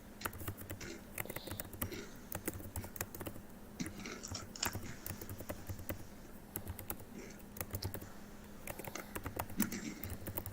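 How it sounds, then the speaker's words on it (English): Rapid typing on a computer keyboard indoors, a dense run of light clicking keystrokes with brief pauses, fairly quiet and close, no talking. "I'm trying to spell it right, and I'm typing so fast."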